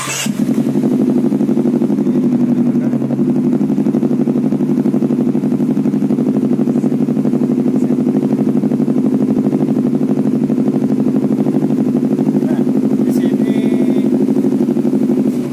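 A motorcycle engine fitted with an MBRTech quickshifter idles steadily and loudly throughout a warm-up function test, a constant low drone with no revving and no talk over it.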